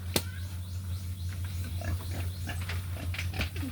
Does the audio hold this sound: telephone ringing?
no